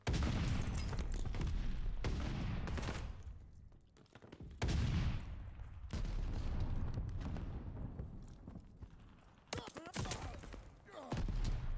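In the Call of Duty Vanguard multiplayer map Champion Hill, a stun grenade goes off amid dense bursts of gunfire and booming explosions, loud and close, with brief lulls between volleys.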